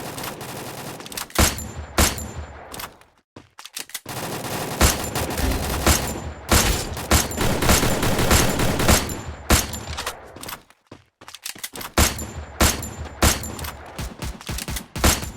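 Rapid bursts of gunfire from the Free Fire battle royale game, loud and repeated in dense volleys with short pauses between them, heard up close.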